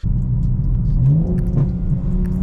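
An 850hp BMW G82 M4 xDrive pulls at partial throttle on a wet road, its engine a steady, loud low rumble with a rising note for a couple of seconds.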